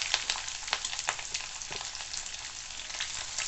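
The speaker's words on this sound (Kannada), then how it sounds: "ಸಾಸಿವೆ ಜೀರಿಗೆ ಚಟಪಟ ಅಂತ ಇದೆ." Mustard seeds, cumin, crushed garlic and curry leaves frying in hot oil, a steady close sizzle with rapid sharp crackles and pops throughout, no voices.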